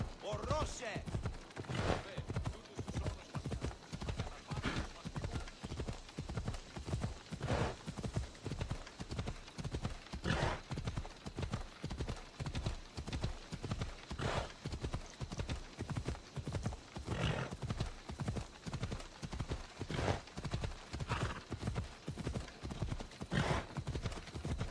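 Steady rhythmic clip-clop of horse hooves at a gallop in Assassin's Creed Odyssey, continuous and even throughout, with an occasional neigh and faint talk underneath.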